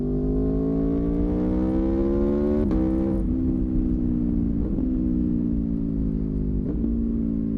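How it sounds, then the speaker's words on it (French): An Aprilia V4 motorcycle engine revs hard and close, holding a loud, steady high pitch that climbs gradually, with short throttle blips or gear changes breaking it about three times. "Pour moi, il n'y a pas de son de véhicule plus beau que celui du V4 Aprilia."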